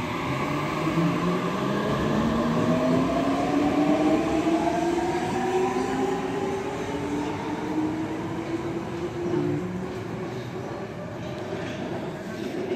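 A renovated Budapest M3 metro train runs through a station, with a steady loud rumble and rising and falling electric motor whine as it accelerates, pulls away and fades out over several seconds.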